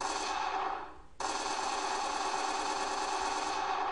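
Rapid game gunfire from a Unity 3D test scene, a dense continuous burst filling the clip with a brief dip near the start before the shots resume loud and steady.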